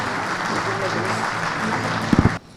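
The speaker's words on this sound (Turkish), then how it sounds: "Vahan Seçer'i kuvvetli alkışlarınızla kürsüye davet ediyorum" Applause from the audience at a municipal economic summit briefing in Mersin, welcoming the metropolitan mayor to the podium, a steady wash of clapping that stops abruptly, with a few louder thumps just before it cuts off.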